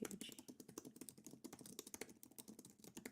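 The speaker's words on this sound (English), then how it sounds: "I'm just typing a little message." Rapid, irregular keystrokes on a computer keyboard as someone types a short message, close and steady throughout with no talking.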